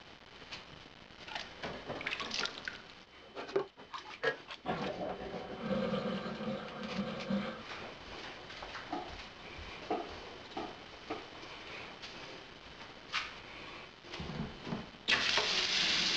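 A water jug is topped up from a tap in a home brewery, with water running and splashing steadily for a long stretch, punctuated by clunks and handling knocks and a louder surge near the end.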